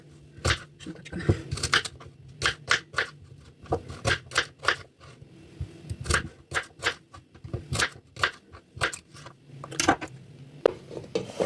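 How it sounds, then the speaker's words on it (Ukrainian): An onion for tomato sauce is chopped on a board with a knife, a steady series of sharp, close taps in quick runs with short pauses. "Тепер нарізаємо цибульку."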